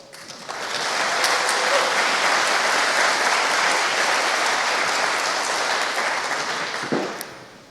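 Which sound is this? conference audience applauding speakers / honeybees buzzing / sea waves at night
conference audience applauding speakers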